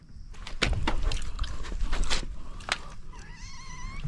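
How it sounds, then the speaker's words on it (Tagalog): A cat in the mountains of the Philippines, heard close up with short meows and rustling, knocks and handling noises around it, ending in a thin drawn-out mewing cry. "Ito ang pusa oh. Na dito sa kabundukan."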